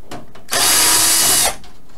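A power screwdriver backs a screw out of a computer power supply in a single loud, close whir lasting about a second, with quieter handling noise before and after.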